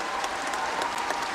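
Audience at the Peace Proms in Limerick applauds a pipe band, a steady wash of many hands clapping, moderately quiet and unbroken for the short stretch.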